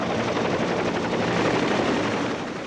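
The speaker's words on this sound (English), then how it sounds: "another enemy of the foot soldier has taken to the skies, the attack helicopter." A military attack helicopter roars steadily and loudly overhead, a dense, unbroken rotor-and-engine wash with no voices.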